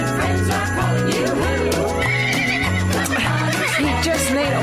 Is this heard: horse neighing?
yes